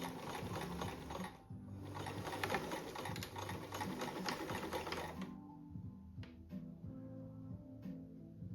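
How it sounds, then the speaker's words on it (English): A sewing machine zigzag stitching a patriotic zippered seat cushion cover runs in a close, rapid mechanical rhythm for about five seconds, then stops, leaving a few faint clicks and handling sounds. "We're gonna zigzag stitch this after,"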